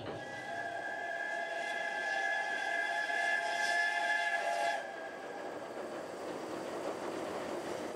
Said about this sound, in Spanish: El tren va impulsado por la locomotora de vapor en funcionamiento más antigua de Japón.